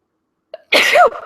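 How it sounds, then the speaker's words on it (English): A single sharp sneeze up close, with a short intake of breath just before and a brief trailing exhale after. "Oh, excuse me. Sorry. Sneezing."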